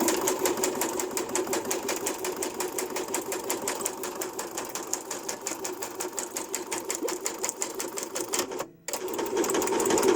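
A sewing machine runs a zigzag stitch through cardboard scraps, giving a steady rapid mechanical chatter that stops briefly near the end, then resumes.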